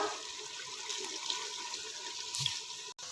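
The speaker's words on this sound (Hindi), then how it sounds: "अब हम इसमें शामिल करेंगे 1 गिलास पानी का।" Water from a glass is poured into a cooking pot of browned chicken and peas, a quiet continuous splashing pour with a soft thud near the end and no speech.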